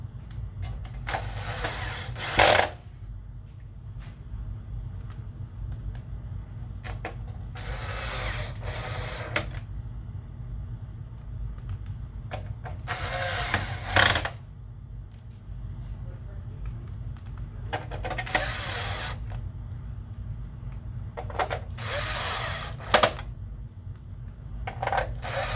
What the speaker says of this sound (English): Then we can go ahead and put those screws back in.